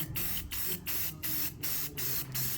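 Spray paint hitting a part of a Ford F100 truck frame, a close series of about eight short hissing bursts in a steady rhythm with brief gaps between them.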